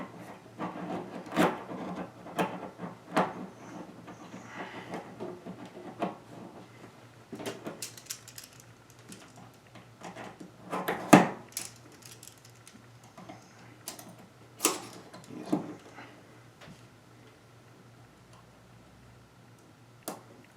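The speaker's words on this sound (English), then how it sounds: "Alright, so now get the recoil spring on there. Just going to compress it down." Metal parts of an AK rifle clicking and scraping as the recoil spring is compressed and fitted by hand, a string of close, sharp ticks and rubbing noises with quieter pauses between.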